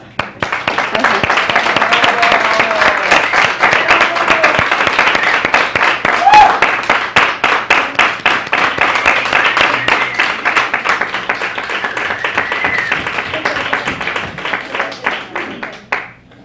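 An indoor audience applauds loudly and continuously for about fifteen seconds during a presentation of a noise-alert app, dense clapping that gradually thins toward the end, with some voices mixed in.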